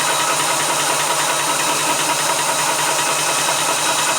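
A Vevor PCP 4500 PSI high-pressure air compressor runs steadily and loudly, a dense, even mechanical drone with a fast rattling chug and no breaks.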